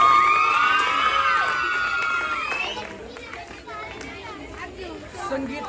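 A crowd at a live game-show event cheers and shouts for a woman who has won a prize, loud and close at first, then settling into mixed chatter, with voices talking over it.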